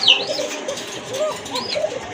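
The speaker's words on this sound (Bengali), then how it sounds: "রানিং এক জোড়া কবুতর কত রাখবেন ভাইয়া" Running pigeons offered for sale at a pigeon market give soft, low coos in a few repeated rounded phrases, fairly close, over a steady murmur of background chatter.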